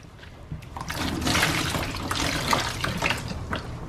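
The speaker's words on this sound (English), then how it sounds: "Flip your sponge over, nice clean side again. And then rinse it out and do it again." Running water splashes steadily as a sponge is rinsed under a tap during an RV cabin renovation, a continuous close wash of trickling and gushing water lasting the whole few seconds with no talk.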